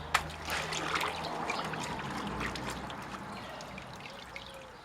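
Water pours and trickles as an oak barrel is dipped in and lifted out, a steady splashing stream close by that fades gradually, with faint crackle in the background.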